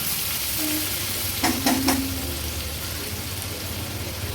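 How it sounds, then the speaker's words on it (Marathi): Ghee spoonful hitting a hot pot of veg biryani base in a home kitchen, giving a steady close sizzle with a brief louder crackling burst midway, no talking. "आता ह्याच्यामध्ये मी एक चमचा एवढं तूप घालते"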